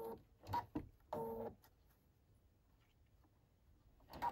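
A sewing machine edge-stitches back pockets onto pants in short bursts, two quick runs of rapid needle clatter near the start, then a quiet pause before another brief burst at the end.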